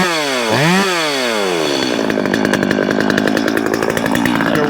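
A Stihl chainsaw with a modified muffler is pull-started, its engine sweeping up and down in pitch before settling into a loud, close, rattling idle.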